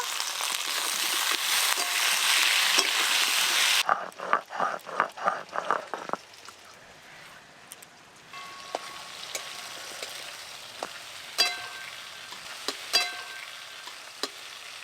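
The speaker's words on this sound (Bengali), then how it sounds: "ওই একই তেলে আমি সবজিগুলো ঝোলের জন্য হালকা করে ভেজে নেব" Vegetables frying lightly in oil in a village kitchen for a fish curry: a bright, loud sizzle at first, then a run of sharp stirring scrapes, followed by a softer, steady crackle with occasional clinks.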